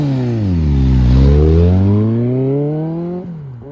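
A motorcycle accelerates hard through its gears, the engine pitch climbing, dropping at each shift and climbing again in a smooth rising whine, loud and close, with no talking.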